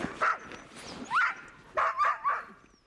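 Several dogs bark and yip in short rising bursts near the kennel during feeding time, with faint whimpering mixed in.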